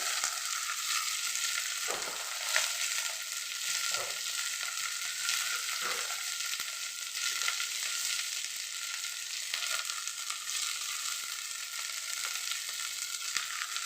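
Sliced onion and chili sizzling in hot oil in a pan for sambar, a steady bright crackling hiss throughout with occasional soft stirring scrapes, close and fairly loud, no voices.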